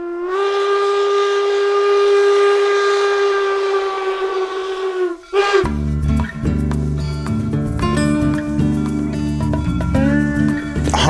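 A steam locomotive at Golden Spike National Historic Site sounds a long, loud steam whistle for about five seconds, then chuffs and clanks with rhythmic, bright mechanical beats as it runs, close and alone.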